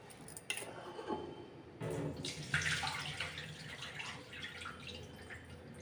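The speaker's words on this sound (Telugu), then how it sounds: "మళ్ళీ ఇంకోసారి కడుక్కుందాం వాటర్ వేసి." Rice is rinsed in water as part of preparing daddojanam, with quiet splashing, pouring and dripping that swells and fades, faint and close by, with no voices.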